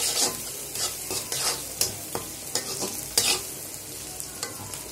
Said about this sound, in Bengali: প্রথমে পেঁয়াজ রসুন বাদামি করে ভেজে নিতে হবে